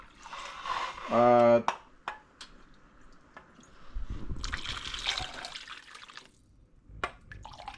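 Hot water pours steadily into a pot for a few seconds, a soft splashing trickle, with a brief burst of talk just before it.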